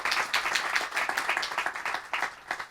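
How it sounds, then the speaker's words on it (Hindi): An audience at a gathering claps in a brisk, uneven burst of applause that runs the whole time, fairly close and loud, with no talk over it. "खूब अच्छी तरीके से इनके लिए ताली बजाना चाहिए"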